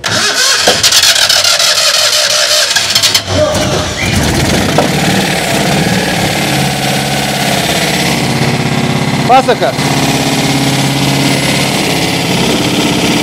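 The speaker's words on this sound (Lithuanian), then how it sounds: "fainas motociklinis varikliukas" A small motorcycle engine shown at an engine day in Šeduva cranks and catches, then settles into a loud, close, steady idle with a brief rev, voices talking over it.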